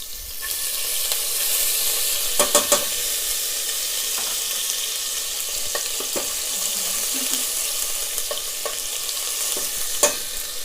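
Garlic and ginger frying in hot oil give off a continuous close sizzle, with scattered sharp clicks and scrapes from stirring over the steady hiss.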